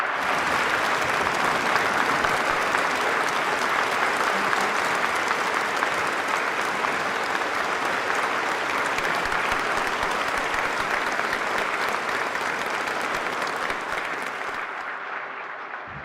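Loud, steady applause fills an auditorium at a national handicraft awards ceremony as the Vice President enters, sustained for about fourteen seconds before tapering off at the end.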